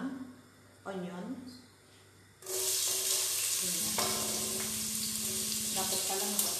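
Chopped onion hits a hot pan for pumpkin risotto and breaks into a loud, steady sizzle with stirring that holds to the end, after a quieter opening where someone talks, and her voice continues over the frying.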